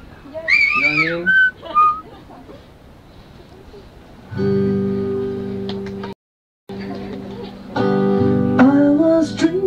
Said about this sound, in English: Whistle solo. It's too harsh for me, so whistle it.